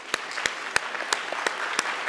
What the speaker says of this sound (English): All righty, a round of applause for the candidates.